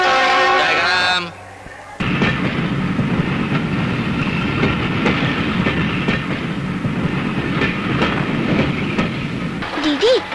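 A train rolls steadily along the rails with a continuous loud rumble and faint rhythmic clatter, after a brief voice and a short drop at the start.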